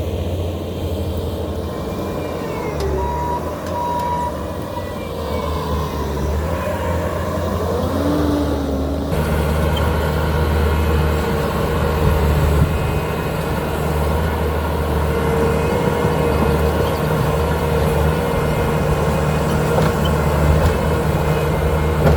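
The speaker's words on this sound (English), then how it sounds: "Good thing we got the skid steer and the excavator." Bobcat T650 compact track loader working wet clay fill on a lawn-installation site, its steady diesel drone running continuously and close, with a shift in engine load partway through and no voices.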